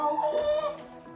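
A chicken clucks close by on a grandfather's farm, its calls filling the short moment with almost no talk around them.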